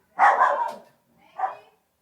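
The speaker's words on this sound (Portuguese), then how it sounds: "Passou e está lá latindo na varanda" A dog barks on a veranda, giving two close, clear barks, the first longer and louder, the second short, with silence between and no other sounds.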